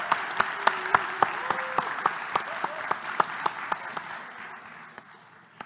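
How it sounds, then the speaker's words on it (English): Audience applause for a conference speaker, heard as a run of distinct, evenly spaced claps that slowly fade toward the end, with a voice briefly audible underneath. "Warm and big applause for Nedelcho Nikolov!"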